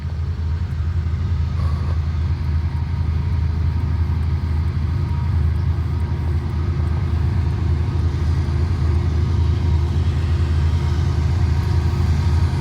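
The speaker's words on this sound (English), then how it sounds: "I count 3 engines on the head end. Looks like a manifest freight coming." A manifest freight train led by three locomotives approaches through Abbeville, South Carolina, its diesel engines giving a loud, steady low rumble that holds throughout with no talking.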